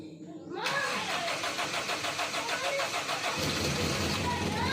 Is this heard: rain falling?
no